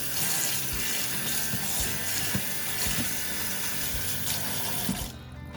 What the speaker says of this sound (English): Just give it a quick rinse with cold water.